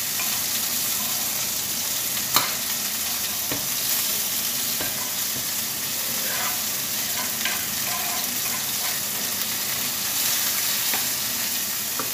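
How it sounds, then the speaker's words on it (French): Sliced onion and garlic sauté alongside browned chicken thighs in a frying pan, giving a steady, close, bright sizzle throughout with occasional sharp clicks of stirring utensils, no voices. "Je vais y ajouter maintenant l'oignon émincé"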